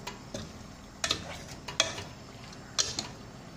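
Food simmering in a sugar and fish oil mixture, with a soft low sizzle and a few sharp utensil clinks and scrapes against the pan, close and fairly quiet.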